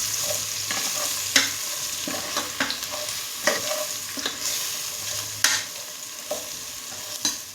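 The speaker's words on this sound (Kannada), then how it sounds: "ಇವಾಗ ಇದಿಷ್ಟು ಹಾಕ್ಕೊಂಡು ಫ್ರೈ ಮಾಡ್ಕೊಂಡೋಣ ಸ್ವಲ್ಪ" Chili powder and coriander powder fry in a hot pan, a steady close sizzle broken by sharp scrapes and knocks of a spoon stirring at irregular intervals.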